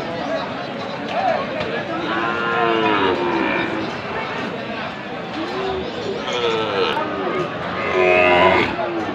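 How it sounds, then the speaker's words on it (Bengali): A Nepali Gir or Sahiwal bull calf lows at a busy cattle market, its repeated moos rising over steady crowd chatter and nearby voices, with a louder call near the end. "এই যে জাতে নেপালি গির জাতের এইটা ষাঁড় বাছুর"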